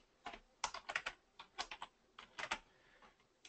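Someone types on a computer keyboard in quick irregular bursts of close, crisp key clicks with short pauses between words, alone and without talk.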